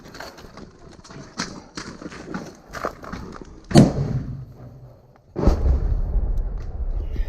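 A fragmentation grenade explodes in a live combat setting in Ukraine, a sharp broadband blast preceded by scattered impacts and distant gunfire, followed by sustained loud rumble and debris noise.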